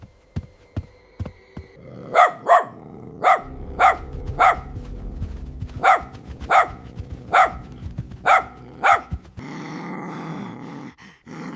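A dog barks in a quick series of loud, sharp, close barks, some in pairs, followed by a burst of rougher noise at the end; no one talks over it.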